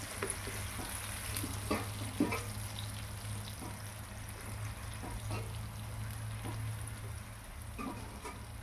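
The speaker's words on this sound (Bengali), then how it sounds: "মশলাটা ভাজার সঙ্গে সঙ্গে লাউটাও দিয়ে দিলাম। লাউটা মশলার সঙ্গে ভাজা হয়ে যাবে।" Bottle gourd frying with spices in a pan, a soft continuous sizzle with occasional stirring scrapes and clicks, fairly quiet and close, with no voices.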